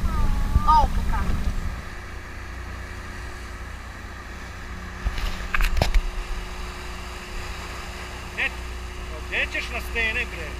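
A small motorboat runs at sea, its engine droning low and steady beneath wind buffeting the microphone, with people talking and shouting over it in bursts.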